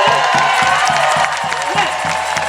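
A large outdoor crowd at a No Kings rally cheers, claps and whoops continuously, a dense loud roar of applause with scattered shouts throughout.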